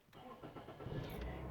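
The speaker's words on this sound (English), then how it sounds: "So let's start up the car" A car engine cranks and catches, then settles into a steady running rumble, heard up close over a brief stretch.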